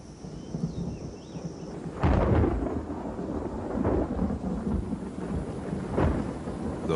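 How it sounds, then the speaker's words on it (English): Rolling thunder from a storm near a limestone cave in jaguar habitat, a loud deep crack around the middle followed by sustained rumbling with rain hiss, booming again toward the end. "he will wait out the storm."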